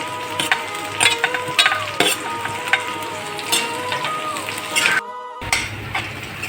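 Shredded cabbage stir-fried with green chillies in a hot pan gives a constant crackling sizzle, broken by repeated spatula clinks and scrapes against the metal and one brief quiet gap.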